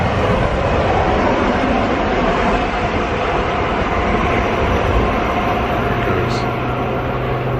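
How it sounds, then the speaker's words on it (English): A Long Island Rail Road train arrives at Valley Stream station with a loud, steady, close roar of wheels and motors, and muffled voices sit beneath it. "Train should be here any minute."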